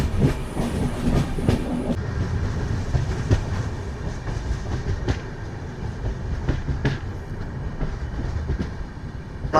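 A Nanded–Tirupati special train rolls along the tracks, a loud continuous rumble with rhythmic clickety-clack of wheels over rail joints, heard from on board and free of speech.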